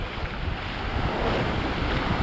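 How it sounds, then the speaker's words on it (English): Atlantic Ocean surf at Daytona Beach, Florida, a steady broadband wash of waves close by, mixed with heavy wind rumble on the microphone. "I'm right on the Atlantic Ocean."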